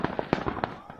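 New Year's Eve fireworks over a rural village in Dong Nai, Vietnam, a quick burst of several loud cracking bangs in about a second, close by, with voices chattering underneath.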